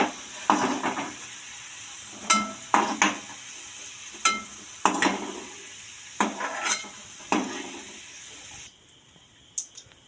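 Chopped ginger and garlic sizzle steadily in a pan for a carrot pickle, with scattered sharp scrapes of a stirring spoon breaking through the frying hiss, close and fairly loud.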